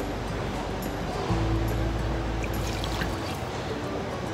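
Hot mead is poured from a ladle through a funnel into a jar, giving a continuous low liquid rush and gurgle that swells noticeably partway through and then eases off, heard alone.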